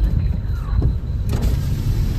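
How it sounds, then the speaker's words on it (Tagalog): A car passes on a road, a broad rumble with a brief swish as it goes by, then another short pass, moderately near over steady background noise. "Uy, traffic."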